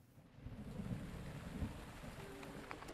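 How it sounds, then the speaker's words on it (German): Thunderstorm in the video game The Legend of Zelda: Breath of the Wild, a steady, low rumbling wash of rain and distant thunder rolling on quietly in the background without speech. "Unser erstes Gewitter hat gerade angefangen."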